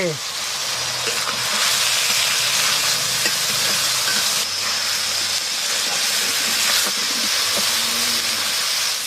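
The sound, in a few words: fish frying in a pan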